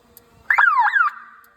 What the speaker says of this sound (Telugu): బ్యాటరీ డిశ్చార్జ్ అయినా సైరన్ మోగుతుంది మనకి ఆటోమేటిక్గా